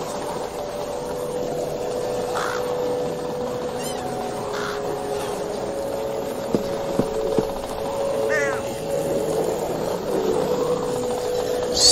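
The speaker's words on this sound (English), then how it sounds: "So many crows." Crows caw repeatedly in the video game The Walking Dead: Michonne, several scattered calls over a steady ambient hum with a low engine-like drone, in a run-down outdoor setting.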